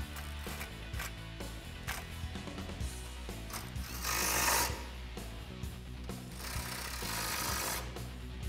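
Socket wrench tightening bolts on a front bumper of a 2014-2015 Chevrolet Silverado 4x4, with rapid ratcheting clicks and mechanical rattling over background music.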